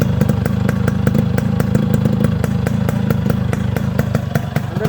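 A freshly rebuilt Yamaha RX 100 two-stroke motorcycle engine runs close by with a loud, rapid, even popping exhaust beat and mechanical clatter, steady throughout with no talk.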